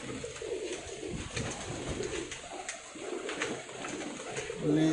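Pakistani pigeons cooing nearby in repeated soft, low throaty calls over a light background hum, with people talking throughout.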